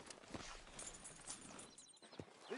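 Faint hoof clip-clops from a horse walking in Red Dead Redemption 2 sound as quiet, uneven steps over a soft background, with no talking.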